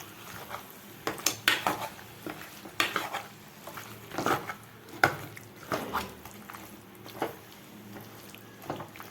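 Repeated scraping and clinking of a utensil stirring in a pan, with a soft sizzle of frying underneath, in an uneven rhythm close by, while sautéing for chicken gravy.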